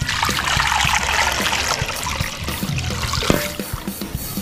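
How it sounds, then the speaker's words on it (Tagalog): Water pours steadily into a handled kawali pan to boil pork belly, a continuous splashing trickle, close and fairly loud, with no talking. "Lagyan lang natin ng tubig."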